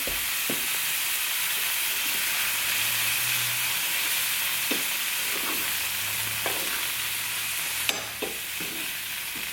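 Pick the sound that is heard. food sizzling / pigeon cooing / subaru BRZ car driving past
food sizzling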